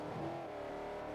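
Brief, steady burst of a Ford Mustang's V8 engine in the Forza Horizon racing game, a low continuous drone at constant volume with no voices.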